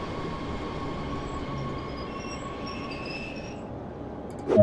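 A DB BR 422 electric train on the S8 Rhein-Ruhr Osten line in Train Sim World rolls with a steady rumble and thin wheel squeal. It brakes to a stop that ends in a sudden jolting clunk.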